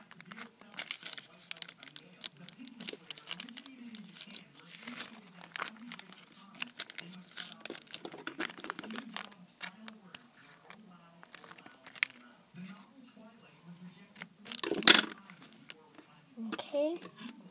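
A chip bag crinkles close up as it is handled and folded with tape for a coin pouch, scattered crackles and rustles throughout, with someone speaking over it.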